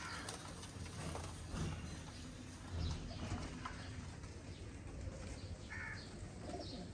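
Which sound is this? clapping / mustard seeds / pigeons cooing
pigeons cooing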